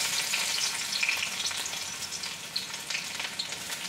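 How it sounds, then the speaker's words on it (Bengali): Two large chopped onions fry in hot oil left from frying snake gourd, a soft continuous sizzle with crackling spits and faint stirring, close by with no talking. "পেঁয়াজগুলো ভালো করে ভেজে নেব।"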